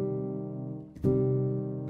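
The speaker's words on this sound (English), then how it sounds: "minor chords sound like this." A minor chord sounds on a sustained keyboard-like instrument, a held chord re-struck once partway through with a brief percussive attack, then ringing on steadily and clearly with no voices.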